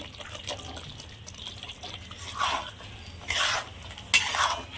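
A spoon scrapes and stirs soybean curry sautéing in a pan, soft close scraping strokes in a few brief louder sweeps over a faint background sizzle.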